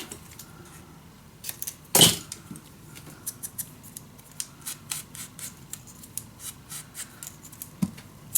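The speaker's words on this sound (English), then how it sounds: "just cut this one in the correct" Paper being trimmed to size with scissors: a run of crisp snips and rustles, one loud close crunch early, then small repeated cuts and handling noises, no talk.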